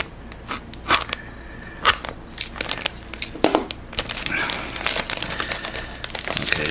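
Plastic Ziploc bag crinkling and crackling while being run through a USB rechargeable bag sealer, irregular close rustles and sharper crackles that grow busier toward the end.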